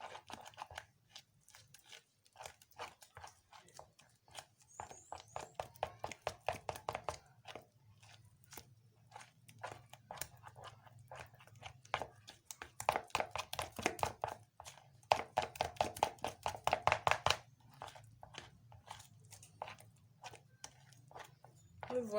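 A cream of shea butter, carrot and aloe vera is mixed by hand in rhythmic bursts of quick, wet, slapping strokes that come in runs for over twenty seconds, with brief pauses between them.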